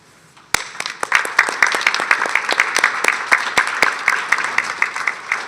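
Audience applauds city employees at a public forum on Saint Paul police chief finalists: a roomful of hands starts clapping abruptly and keeps up a steady, moderately loud patter of distinct claps.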